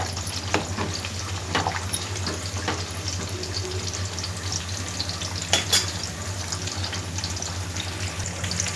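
Tempering spices fry in a pan for gongura curry, giving a steady close sizzle with a few light scrapes and clicks of stirring throughout, with no voices.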